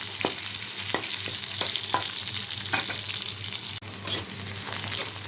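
Onions frying in oil with cinnamon and bay leaf, a loud continuous sizzle close up, punctuated by regular scraping stirs of a spatula against the pan.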